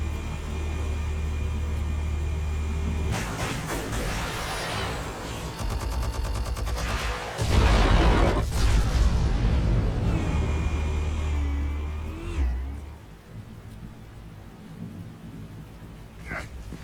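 Explosives detonate in Telltale Batman with a deep, heavy boom and a long crackling, rumbling blast tail that rolls on for several seconds before fading out.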